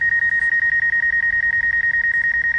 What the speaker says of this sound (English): It's beeping because it sees an object right in front of it